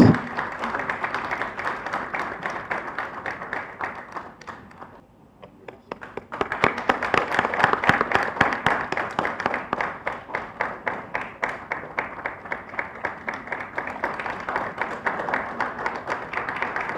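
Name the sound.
audience applause for the winners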